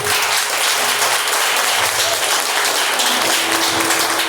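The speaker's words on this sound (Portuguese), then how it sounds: "uma salva de palmas para a nossa Santa Igreja Católica." Steady, loud applause from a congregation at a Catholic prayer group gathering, sustained clapping filling the room without pause and no talk over it.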